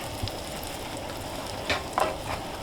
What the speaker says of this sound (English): I'm gonna toast these rolls before that beef and onions is done outside